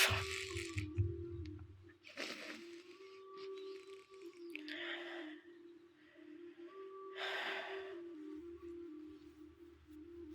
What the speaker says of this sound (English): And you breathe.